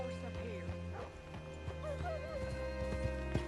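Hooves clip-clop in Red Dead Redemption 2 as a horse is brought up, with short whinnies and dog barks mixed in over a steady game soundscape.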